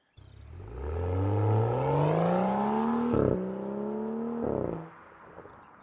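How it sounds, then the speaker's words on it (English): A BMW M135i with the N55 engine and Milltek exhaust revs up hard, pitch climbing through a long pull, then snaps through two quick gearshifts before the loud note drops away. "I genuinely do prefer the noise of this N55 M135i"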